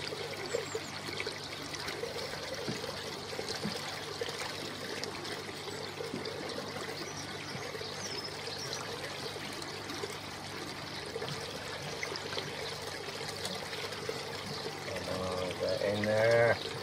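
Water streams steadily through a newly built koi pond filter, a continuous close trickling and pouring that swells slightly louder near the end.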